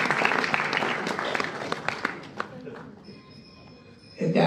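Audience applause at a Goa Hindu Association gathering, a dense patter of many hands from the start that thins out and fades after about three seconds, leaving near quiet, before a louder noise returns at the very end.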